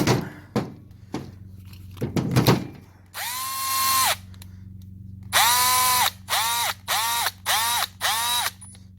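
A bench grinder motor whirs up in bursts. It gives one sustained run, then a longer run followed by several short on-off pulses, each with a steady tonal hum, after a few sharp knocks at the start.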